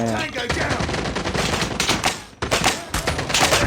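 Rapid bursts of gunfire from a Call of Duty shotgun match ring out loud and dense, with brief pauses between volleys.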